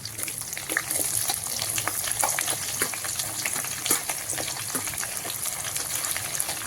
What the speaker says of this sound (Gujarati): તો ડુંગળીને આપણે આવી રીતે સરસ મિક્સ કરી લઈશું તેલ સાથે